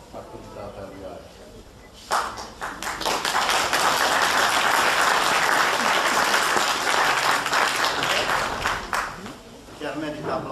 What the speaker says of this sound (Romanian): Chiar merită aplauze, să știți, Emil Hagi